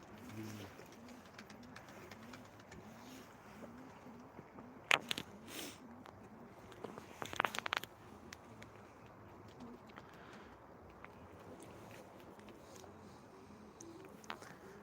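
Pigeons cooing outdoors: soft, repeated low coos throughout, with scattered sharper chirps and clatter, over a steady outdoor background.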